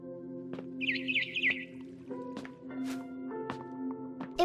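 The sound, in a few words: barn swallow chirping, video game What Remains of Edith Finch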